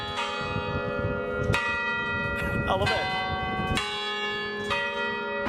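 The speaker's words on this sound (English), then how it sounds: "We had a tune before, then the bells, then we get another tune." Church tower bells in Stockholm ring out a noon tune: loud, resonant strikes every second or so over a sustained humming wash of overtones, with a person speaking briefly nearby.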